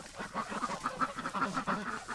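Ducks and geese wintering in a lean-to shelter call repeatedly in a busy chorus of overlapping quacks and honks, fairly close and steady throughout, with no talking.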